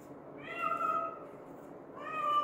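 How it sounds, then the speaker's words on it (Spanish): A cat gives two drawn-out meows, the first longer and rising, the second starting near the end, fairly close and clear over a quiet indoor background. "Y el gato chilla."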